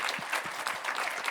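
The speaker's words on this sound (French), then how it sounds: "quand même quelques applaudissements pour la cellule transfert" Applause from a conference audience at a scientific colloquium opening session, a short burst of dense clapping at moderate level, steady throughout with no voices over it.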